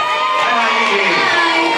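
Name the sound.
fans cheering and applauding louder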